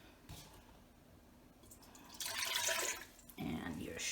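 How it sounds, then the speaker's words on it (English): Vinegar is poured into a pot on the stove for Singapore chili sauce: quiet room tone, then a couple of short splashing pours of liquid near the end. "first thing you're going to do is you're going to add your vinegar"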